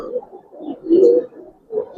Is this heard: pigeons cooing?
yes